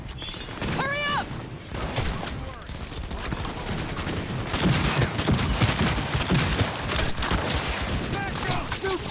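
Dense, rapid gunfire from the Cyberpunk 2077 video game crackles continuously at close range, with bursts of automatic fire and impacts, while voices shout over the shooting.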